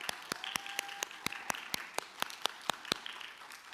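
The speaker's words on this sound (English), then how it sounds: "let's give him a big round of applause." Audience applause at a high school fine arts awards ceremony, heard as steady clapping with sharp, evenly spaced louder claps standing out, fairly distant and moderate in level, with no talk over it.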